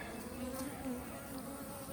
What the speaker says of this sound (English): The bees are all over it.